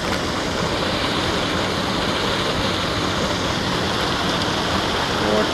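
Water rushing over a spillway at Fort Clark Springs, a loud, steady broadband roar of falling water that fills the whole clip without change.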